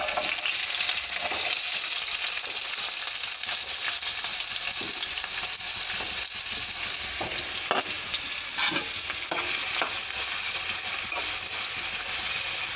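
Chopped onion and green chilies fry in hot oil, a loud, steady sizzle with scattered crackles and occasional stirring clicks throughout, no voices.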